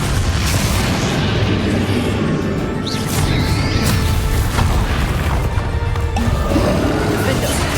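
The Bombarda explosion spell goes off in Hogwarts Legacy amid loud, dense battle noise, with crashing booms and impacts layered over continuous game sound and voices.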